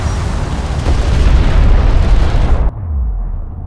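Airstrike explosions in Homeworld: Deserts of Kharak, a loud sustained rumbling blast with crackling bursts that cuts off abruptly into a lower fading rumble.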